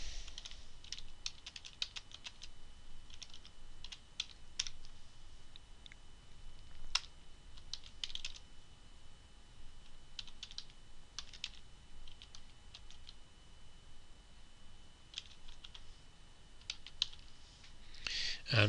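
Typing on a computer keyboard while drawing a 3D case table in AutoCAD, a steady run of light, crisp key clicks in quick irregular bursts, close and fairly quiet, with no talking.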